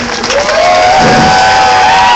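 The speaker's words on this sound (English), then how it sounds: "And let's give a big round of applause for the GCUs." A crowd cheering and clapping at the March Against Monsanto in San Francisco, a loud continuous swell of shouts and whoops that rises and holds steady.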